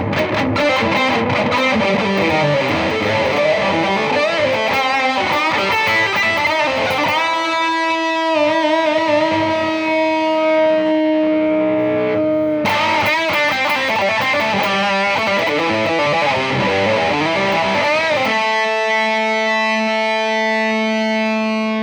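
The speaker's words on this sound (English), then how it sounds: "So that's your spring reverb." Peavey Triumph 60 guitar amplifier with its spring reverb on, a distorted electric guitar playing chords and sustained notes that wash into a lingering echoey tail, loud and close with no talking.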